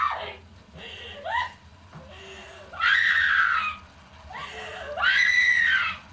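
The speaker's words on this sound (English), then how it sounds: "Cue that scream here" A horror-style scream effect rings out in several loud, rising and falling wails separated by short gaps, with no talking.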